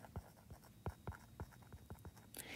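A pen writes on paper in a lesson on angle pairs, making soft, scratchy strokes and small taps in an irregular rhythm, very faint and close, with no talking.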